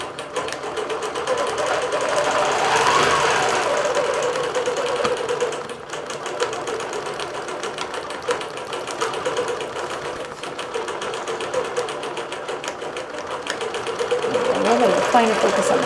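A computerized long-arm quilting machine stitches a quilt out into the border, a steady fast mechanical whir with rapid needle chatter that holds loud and constant throughout.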